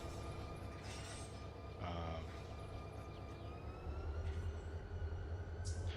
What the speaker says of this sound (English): new sounds for the train, the wheels rolling by, new traction motor sounds, new fan sounds for the locomotives